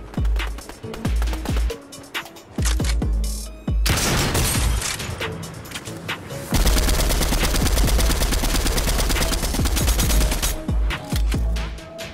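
Fortnite gunfire erupts in close, loud bursts, with scattered single shots giving way to long sustained rapid fire and dense clattering volleys.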